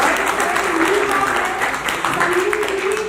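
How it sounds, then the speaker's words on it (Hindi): An audience claps loudly at an International Women's Day honours ceremony held by a poetry society, a dense wash of applause that runs under a speaking voice the whole time. "बहुत जोरदार तालियां हैं सर।"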